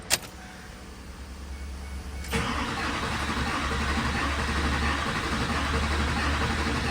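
A Silverado 6.6 LBZ Duramax diesel engine cranks after fuel injector work, with a sharp click at the start, then a steady, loud starter churn that grows stronger after two seconds and runs on without catching.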